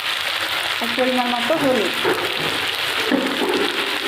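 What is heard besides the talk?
potatoes frying in oil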